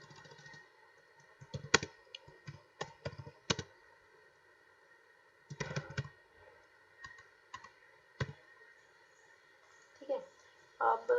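Typing on a computer keyboard while entering text into an Android app, short clustered bursts of clicks separated by pauses under a steady electronic hum, with someone talking in between.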